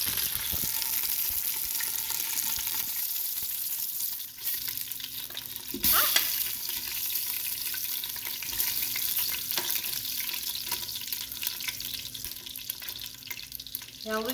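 Beef chunks sear in an Instant Pot, a steady close sizzle and spatter running throughout with occasional scrape and clink of a utensil, no talking.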